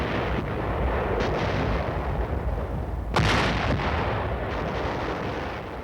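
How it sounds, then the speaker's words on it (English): An artillery barrage fires in a dense, continuous roll of heavy booms and rumbling blasts, loud and sustained, with one sharper report standing out partway through. "with the let-up of the barrage, the infantry moves out"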